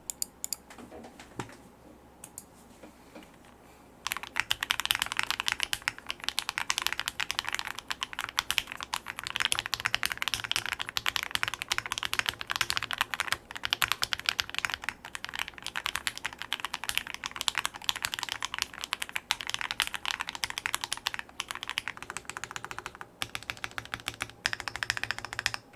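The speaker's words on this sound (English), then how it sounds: "I prefer the sound of the PC plate as it's softer and has a nice pop to it" Mechanical keyboard with lubed, filmed Banana Split switches on a polycarbonate plate in an EAU 75 case by Chaosera Lab, a dense steady run of close, soft clacky keystrokes after a few seconds of sparse taps.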